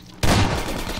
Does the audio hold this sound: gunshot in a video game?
yes